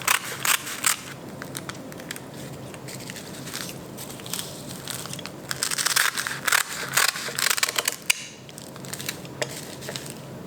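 Kim seaweed sheets for rainbow flower kimbap being cut into quarters, heard as dry crisp crackling snips and crunches in repeated bursts, close and fairly loud, with no talking.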